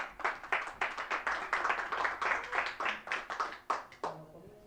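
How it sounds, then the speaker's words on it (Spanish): A church congregation claps loudly together in a steady, rhythmic beat of distinct hand claps, close and full, before the clapping trails off near the end. "Den un fuerte aplauso al Señor."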